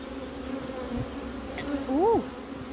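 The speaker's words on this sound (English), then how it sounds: "I'm just going to start pushing some of those bees right off into the colony" Bees buzz around an opened backyard hive during an inspection, a steady droning hum with one bee sweeping close past for a louder, rising-and-falling pass near the end.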